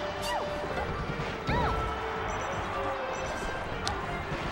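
Down smash attacks land in a Super Smash Bros. Melee match, a couple of sharp crashing hits with rising game effects over a busy background of crowd noise and faint commentary.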